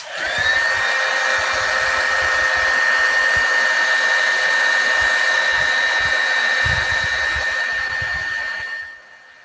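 An embossing heat tool blows on clear embossing powder with a loud, steady, close whine and whoosh, droning evenly for about nine seconds before cutting off.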